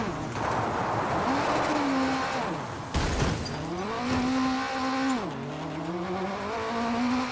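A Ford Focus RS 2007 rally car in the WRC 9 video game, racing the Ouninpohja stage, its engine note rising and falling through gear changes, with a sharp burst of gravel or impact noise midway.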